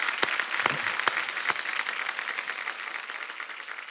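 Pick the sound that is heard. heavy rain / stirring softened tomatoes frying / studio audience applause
studio audience applause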